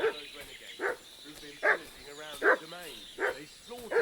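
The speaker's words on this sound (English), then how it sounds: "What's that dog making such a fuss about?" In Kingdom Come: Deliverance II, a dog in a medieval village barks in short, scattered bursts at moderate distance, mixed with whimpery yips over a low ambient background.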